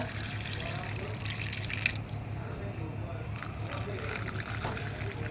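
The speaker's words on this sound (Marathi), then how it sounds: "आपण यामध्ये" Cold water pours and splashes softly into a container, a steady liquid trickle over a low background hum.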